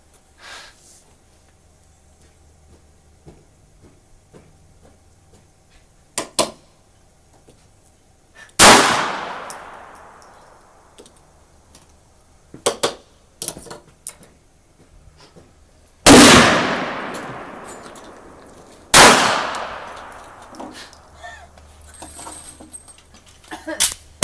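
.22 caliber gun fired at a shooting session: three loud, sharp reports with ringing tails, spaced several seconds apart, plus scattered softer clicks and handling noises in between.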